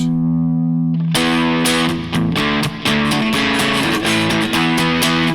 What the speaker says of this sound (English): Yep, that's Fender distortion.